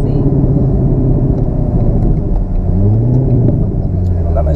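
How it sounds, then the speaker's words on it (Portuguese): A car engine rumbles steadily and rises in pitch as the vehicle accelerates, heard from inside the car with continuous low road noise throughout. "esse carro dá uma vontade de acelerar"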